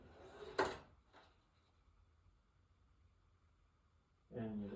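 A toolbox drawer is opened and closed with a sharp sliding clatter, a softer knock following, then near-silence before another rumbling slide of the drawer at close range.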